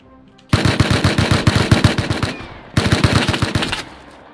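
Gunfire in the video game Rust comes as two loud, rapid bursts of automatic shots. Each burst holds a dozen or so evenly spaced cracks, and a short pause separates them.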